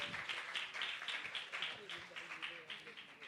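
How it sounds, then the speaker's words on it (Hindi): A crowd at a Kathak dance performance applauds the accompanying musicians with a steady, rhythmic wash of clapping. The applause is fairly soft and sounds somewhat distant, with a little speech noise mixed in beneath it. "मेरे सभी संगत कलाकारों के लिए भी एक बार मेरी तरफ से ताली और बहुत बहुत धन्यवाद"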